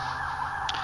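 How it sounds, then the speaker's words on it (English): An emergency siren wails outside, a steady, moderately loud tone held through the short moment with no talking. "Sorry for the siren."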